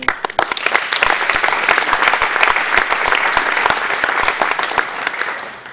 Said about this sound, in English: This is a remarkable achievement that needs an applause.